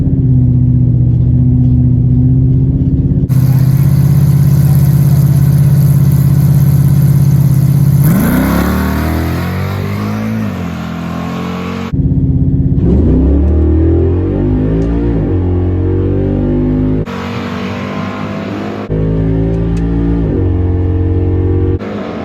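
Chevrolet Malibu drag car at a drag strip: a loud engine holds steady, then roars through hard revs and gear changes, dropping and surging again several times, close and alone.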